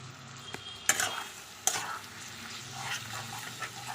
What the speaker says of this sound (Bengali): এবার ভালোভাবে একটু নেড়ে দেব,